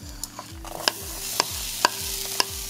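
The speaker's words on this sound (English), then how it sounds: "We're gonna add our onions and our garlic and we're just gonna saute them for about 30 seconds or so." Onions and garlic sauté in a pan for Mexican poblano rice, a close steady sizzle broken by four or five sharp clinks of a utensil against metal.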